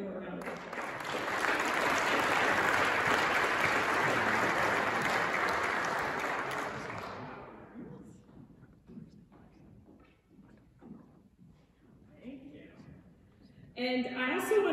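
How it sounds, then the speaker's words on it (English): Audience applause at a cultural industry legislative dinner, a full, steady round of clapping lasting about seven seconds before fading out, followed by quieter room sounds and a voice beginning to speak. "So can we all give them a round of applause?"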